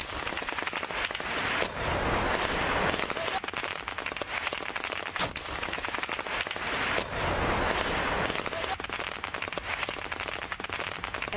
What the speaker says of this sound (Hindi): ये फायरिंग की आवाज आपको आ रही होगी इस वीडियो में